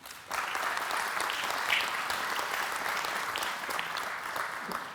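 Sustained audience applause at an NHS England health panel event, steady dense clapping starting abruptly and continuing without talk.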